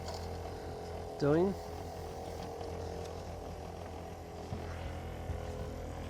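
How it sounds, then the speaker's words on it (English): The outdoor unit of a Daikin air conditioner, running in heating mode, hums steadily with its two condenser fans and compressor going, a continuous low drone close by as someone speaks over it. "The two condenser fans are running, the compressor is running."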